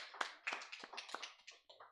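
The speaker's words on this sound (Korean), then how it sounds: "하나님께 영광의 박수 돌려드리겠습니다." A church congregation at a Sunday service gives a round of applause, heard as faint, scattered hand claps with a loose, uneven rhythm.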